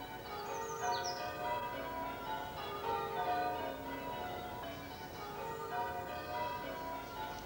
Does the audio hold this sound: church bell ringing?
yes